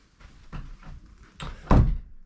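Interior door to the side access of a house, opening and closing with a couple of soft knocks followed by a firm, close thud as it shuts.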